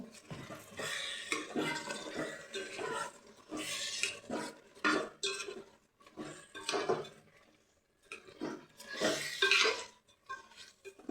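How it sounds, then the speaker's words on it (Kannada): Rice frying in a pot for biryani while being stirred: irregular bursts of metal scraping and clinking against the pot, close by, with brief quiet pauses between strokes. "ಈಗ ಅಕ್ಕಿ ಹಾಕ್ಕೊಂಡು ಚೆನ್ನಾಗಿ ಫ್ರೈ ಮಾಡ್ಕೊಳ್ಳೋಂತೆ."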